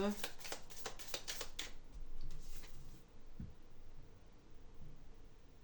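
Tarot cards shuffled by hand in quick riffling bursts for about two seconds, then softer handling of the deck, with a voice murmuring faintly in the background.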